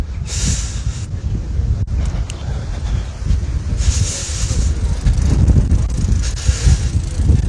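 Strong gusty wind at a cycling race start village roars and buffets the microphone continuously, with heavy low rumble and surges of hiss that rise and fall over several seconds.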